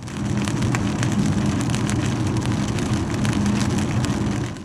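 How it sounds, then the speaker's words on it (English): Rain from Tropical Storm Idalia pours steadily at Garden City Beach, a loud, dense, continuous hiss with a low rumbling undertone throughout. "the rain was picking up."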